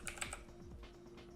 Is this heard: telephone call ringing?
no